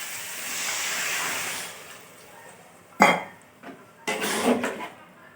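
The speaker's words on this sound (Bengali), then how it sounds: "এবার এর মধ্যে আমি জল দিয়ে দেবো" Water is poured into a hot pan of curry, giving a soft rushing hiss that fades, then sharp metallic clinks and a second burst of sizzling and bubbling, close up in a home kitchen.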